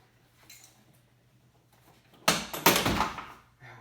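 Plastic clips on a BMW E46 door panel pop loose in two sharp, close clacks with a rattling scrape between them, after a quiet hum.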